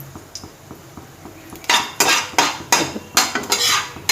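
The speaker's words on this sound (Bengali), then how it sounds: "ফোড়নটা দেখুন ভালো করে একটু ভাজা করে নিচ্ছি" Panch phoron spices frying in a pan for sour hog plum chutney under a low sizzle, followed by a quick series of about six sharp metallic scrapes and clinks of a spoon against the pan, close and fairly loud.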